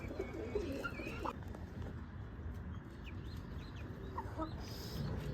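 Hen and rooster cluck softly and intermittently while feeding, with a few short calls close by over a steady outdoor background hum.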